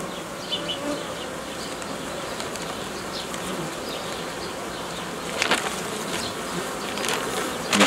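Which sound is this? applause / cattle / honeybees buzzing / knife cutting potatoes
honeybees buzzing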